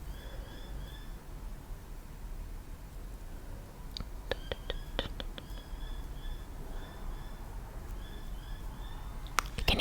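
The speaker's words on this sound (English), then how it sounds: "You can hear some birds as well." Faint, distant bird chirps repeat over a quiet background hiss, with a few sharper calls clustering midway.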